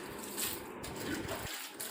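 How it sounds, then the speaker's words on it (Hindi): Water poured over freshly sown papaya seeds in garden soil, a steady close splashing and trickling wash that runs continuously with no talk. "अब सीड्स लगाने के बाद हमें इस पे अच्छे से पानी देना है"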